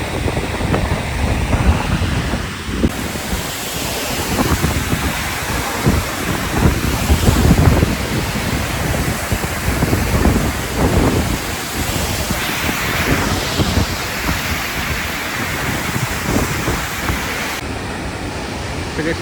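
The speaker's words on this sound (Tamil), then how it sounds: "அங்கே ஊற்றுற தண்ணி இங்கே தான் சாரில் அடிக்குது" Steady, loud roar of rushing water and spray from Athirappilly Falls, a dense continuous wash of noise with wind buffeting the microphone throughout.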